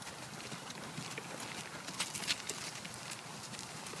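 A horse walks forward around a turn, its hooves producing a soft, steady clip-clop over a constant broadband outdoor hiss, with a few brighter hoof strikes near the middle.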